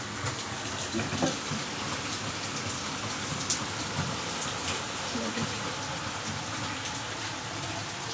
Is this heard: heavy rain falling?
yes